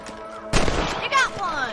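A single loud rifle shot in Red Dead Redemption while hunting rabbits, a sharp crack followed by a brief decay, with voices heard alongside.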